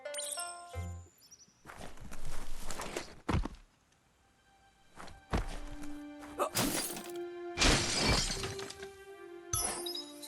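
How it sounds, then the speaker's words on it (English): A wooden box gets smashed apart in the video game Biomutant, with several loud crashing, splintering bursts and rattling debris separated by brief pauses, set against a faint game music bed. "You shouldn't worry about smashing up the box."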